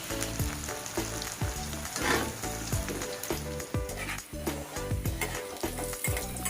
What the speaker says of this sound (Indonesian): Selanjutnya, goreng tempe hingga garing.